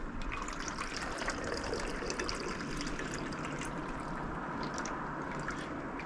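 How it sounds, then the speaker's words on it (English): An espresso martini is strained from a shaker into a chilled martini glass, making a steady, soft trickle of liquid that runs unbroken and fairly faint from start to finish. "I'm going to strain that into my chilled martini glass."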